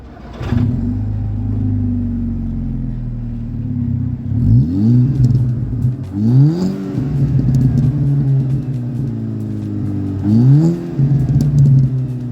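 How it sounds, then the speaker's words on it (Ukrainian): A car engine idles with a steady low rumble after an ignition coil replacement, revving up briefly three times with rising whines before settling back each time. "Закриваємо капот і запускаємо двигун, щоб переконатись, що вся система запалювання працює бездоганно"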